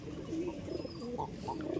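Madrasi pigeons of the Phulshira line, kept at a home up for sale, coo in soft repeated low calls close by, overlapping into a steady murmur with a few brighter chirps.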